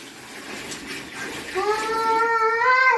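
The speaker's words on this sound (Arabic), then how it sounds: "وبعد كده على طول يا هند هننزل بالميه السخنه." Hot water pouring from a kettle into a container in a home kitchen, a gushing splash whose pitch rises steadily as the vessel fills over a few seconds.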